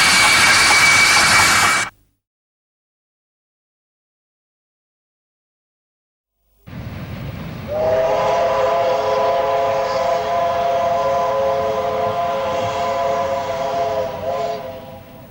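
A steam locomotive on the South Maitland Railway, a coal line, gives a short hissing blast, then after a silent gap sounds a long, loud steam whistle with a steady layered tone that holds for several seconds.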